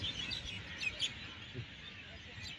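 Birds chirp and tweet at sunset in Sharjah, with faint, scattered high calls over a quiet, low background hum.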